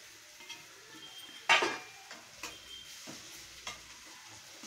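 Potatoes tipped into a pan of salt and chili powder for an aloo cheese samosa filling: one sharp clatter as they land, followed by softer intermittent scrapes and taps of stirring and mashing.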